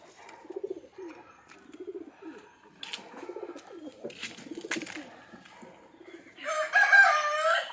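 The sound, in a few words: country chickens and rooster crowing as coop is opened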